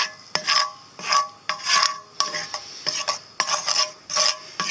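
A utensil scrapes and stirs tomato gravy cooking in bacon grease in a cast iron skillet, about ten rhythmic strokes heard close up with short pauses between them.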